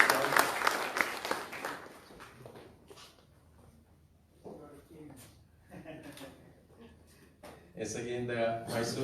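Audience applause welcoming a reverend to speak at an event on science and faith: a burst of clapping opens, fades as a voice talks over quieter room sound, then clapping and chatter rise again near the end.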